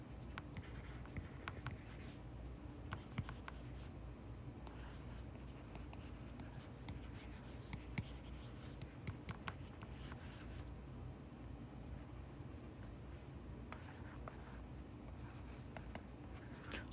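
Pen writing during a physics lesson on circular motion: close, steady scratchy strokes and taps that run continuously, with no speech.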